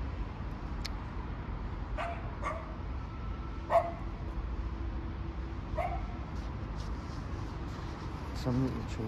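A small chihuahua yaps a few sharp barks from a balcony at a distance, faint and scattered over a low steady background rumble.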